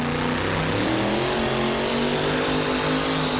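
A fuel-injected big block Chevrolet engine in a pulling truck revs hard and steadily at a truck pull event, a loud, continuous roar with a rising and settling pitch that fills the whole stretch close up.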